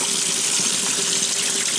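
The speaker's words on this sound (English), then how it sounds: "This washer tub takes about 3 minutes to fill from empty to full" Cold water pours into the tub of a 1996 Maytag Dependable Care Plus washer, a loud, steady hissing gush that runs unbroken from start to finish.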